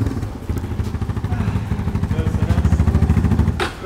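A quad bike engine runs close by with a rough, pulsing rhythm that grows slightly stronger toward the end, ending in a short burst of noise.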